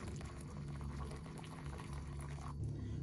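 Water at a rolling boil for sterilizing jars for cucumber pickles, a steady close bubbling and churning hiss that runs unbroken with no voices.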